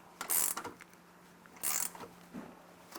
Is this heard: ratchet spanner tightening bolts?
yes